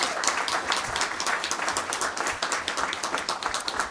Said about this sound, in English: So a big round of applause for all of our fine arts in Spartanburg District 1.